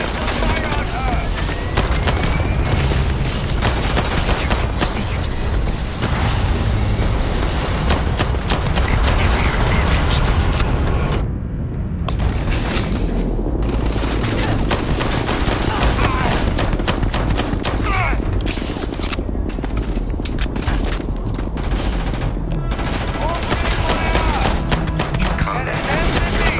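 Sustained combat gunfire, dense bursts of automatic fire and repeated shots rattling almost without pause, with one brief gap of silence partway through and shouted voices mixed in.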